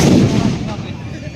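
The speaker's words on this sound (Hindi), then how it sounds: "ये पटाखों की गूंज" Firecrackers burst with a booming, echoing report that rolls out and decays over a second or so, loud and close at a village festival's final day.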